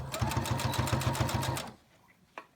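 A sewing machine stitches a fabric face mask in a fast, steady pulsing run for about a second and a half, then stops, leaving near silence and a brief soft click.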